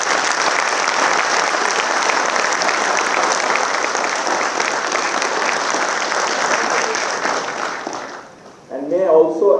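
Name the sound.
audience applause at convocation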